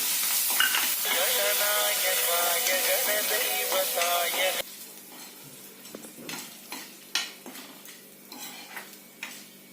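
Dried red chillies, curry leaves and a pinch of asafoetida sizzle loudly in hot oil for a jujube chutney tempering, a dense close crackle that cuts off halfway, followed by scattered clinks and scrapes of a spoon against the pan.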